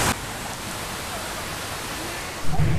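Chengara waterfall in Pathanamthitta, heard from above, gives a steady, broadband rush of falling water, moderately loud and unchanging, with a brief bump of nearby handling noise near the end.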